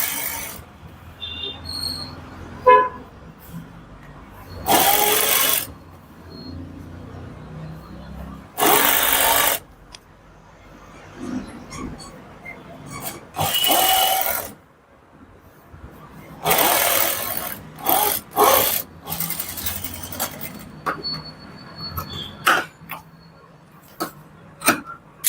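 Sewing machine running long stitches on a boutique-style blouse, heard in several short, separate bursts of rapid mechanical whirring with quieter handling sounds and pauses between them.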